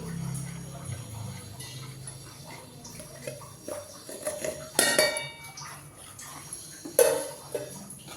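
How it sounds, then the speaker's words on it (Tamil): Metal spoon stirring sweet kozhukattai flour dough in a pot, steady scraping and clinking against the pan with a couple of sharper knocks, close and fairly quiet. "கட்டி விழாமல் நம்ம கிண்டிகிட்டே இருக்கணும்"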